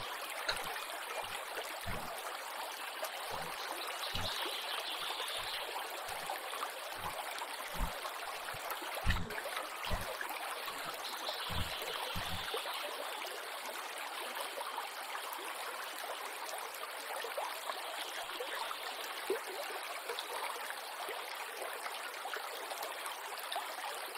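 A waterfall pours beside a cave entrance, a steady, full rushing of water that holds constant throughout, with a series of low, soft thumps in the first half.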